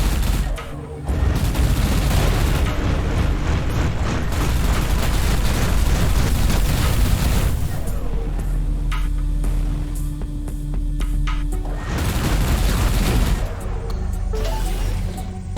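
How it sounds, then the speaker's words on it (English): A spaceship autocannon in the space shooter Everspace 2 fires continuously in rapid, booming bursts. The roar stays loud and dense, with only brief lulls between volleys. "I like the sound effect of this autocannon"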